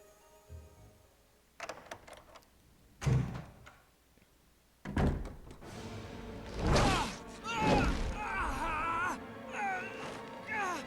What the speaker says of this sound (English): Alright, now let's go through this door.